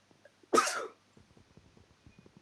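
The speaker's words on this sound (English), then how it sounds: "It was a sneeze that I turned into a cough." A single sharp sneeze that breaks into a cough, loud and close, followed by faint rustling and soft background sounds.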